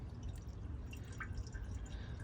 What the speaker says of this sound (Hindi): और ये मैं इसमें फ्लश डाल रहा हूँ लिक्विड वाली है।